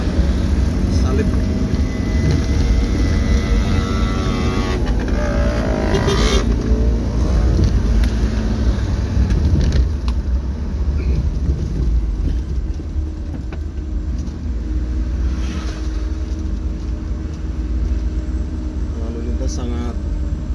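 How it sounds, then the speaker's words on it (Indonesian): Heavy loaded truck and busy traffic on the road to Dieng give a continuous low engine rumble with passing vehicle swells, loud and close, while someone talks over it. "Dan di depan saya ini truk muatan lagi, truk bermuatan lagi."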